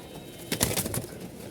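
A pair of lark pigeons gives a brief, soft burst of cooing or wing flutter, heard close and quiet for under a second.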